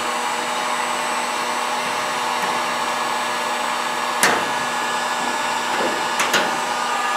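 A heat gun blows steadily, softening old coating on the interior of a Triumph Spitfire during restoration prep; a constant airy roar runs throughout, broken by a few sharp scraping clicks near the end.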